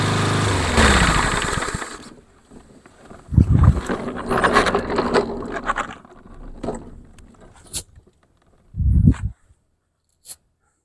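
A lawn mower engine runs while cutting grass, starting with a loud, rough drone that becomes an uneven, fluctuating clatter with a few sharp bursts near the end.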